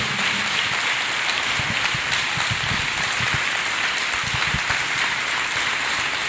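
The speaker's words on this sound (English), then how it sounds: "Let us clap hands for Master Jesus" A church congregation claps for Jesus, a dense, steady wash of many hands that sounds almost like rain and holds loud and unbroken throughout.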